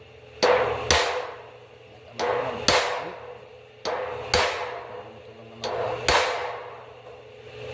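Hand hammering on metal, done manually without a grinder, lands in four evenly spaced pairs of sharp ringing blows, each pair a quick double strike, loud and close with no talk.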